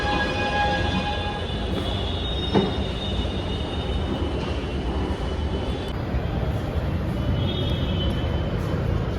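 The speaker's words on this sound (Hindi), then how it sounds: "तो अभी हम जा रहे हैं हवा महल मेट्रो से" Steady rumble of a Jaipur metro train in motion, with rattling wheels on track, a faint squeal and a brief clunk, heard from inside the carriage.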